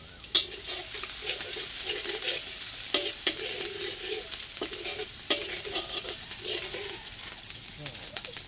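Chopped onion hits a hot pan and sizzles steadily while being stirred, for a Thai-style fried egg with toppings; a continuous close crackle runs throughout, broken by a few sharp spatula clicks and scrapes.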